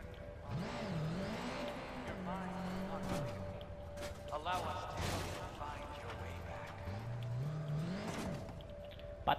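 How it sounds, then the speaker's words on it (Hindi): Motorbike in Watch Dogs 2 pulling away, its engine rising and falling in pitch through repeated revs and gear shifts, with a voice talking over it. "ये बाइक लेके हम लोग यहाँ से निकलते हैं"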